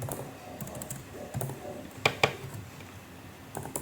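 Typing on a computer keyboard while entering code, a loose run of key taps with a couple of sharper clicks midway, close and fairly quiet.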